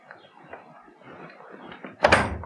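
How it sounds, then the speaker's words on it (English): A cupboard door in a children's puppet story is pulled open with a sudden wooden clunk and rattle near the end, after a stretch of quiet shuffling and creeping movement. "Open the door."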